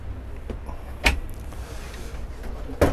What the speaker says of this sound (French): Donc les tiroirs avec, bien évidemment, les freins de chute comme les cuisines modernes